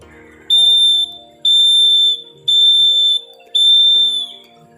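Four long, steady electronic Morse code dashes for the letters KH, each lasting close to a second, with short gaps between them, loud and clear over a faint background hum.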